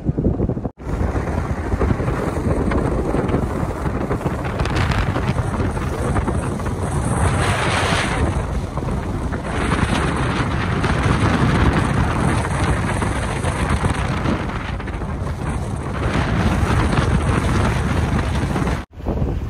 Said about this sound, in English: I'm gonna apologize now for the wind in this video.